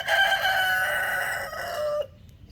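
A rooster gives one long crow lasting about two seconds, fairly close and clear, in a yard where chickens are kept during trailer wheel bearing work. It then drops off into quiet.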